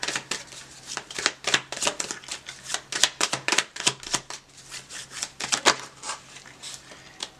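A deck of tarot cards is shuffled by hand in a steady run of crisp riffling bursts and slaps, close and loud, with no talking over it.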